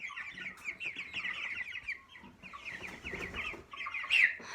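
Broiler chickens raised at home cluck and chatter nearby in overlapping, uneven bursts, with one sharper, louder squawk near the end.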